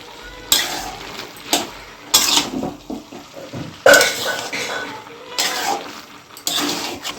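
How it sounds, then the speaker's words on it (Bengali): Banana flower and prawns stirred and fried in a pan, with bursts of scraping and clattering spoon strokes over a continuous sizzle, loud and close, in an irregular rhythm. "আর একটু ভালো করে কষে নিচ্ছি।"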